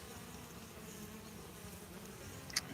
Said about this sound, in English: The bees are happy because it's warmed up and enough to fly.